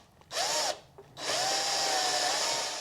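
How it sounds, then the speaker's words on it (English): Cordless power drill driving square-drive screws while building a camper kitchen, one short whirring burst, a pause, then a longer steady high whine as the screw seats, close and clear. "There's a special bit for these screws. It's a square bit."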